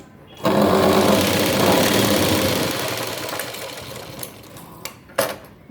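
A sewing machine stitches a blouse along the shoulder seam, running loud and steady with a fast whirring rhythm for a few seconds, then slowing and stopping with a couple of clicks.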